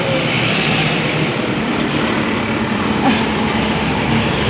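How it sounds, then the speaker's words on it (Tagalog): Heavy trucks roar past in a steady, loud rumble of engines and road noise, nearby and continuous, on a Manila road near the port on a rainy day. "Kaya malaki yung mga truck sumalubong sa atin."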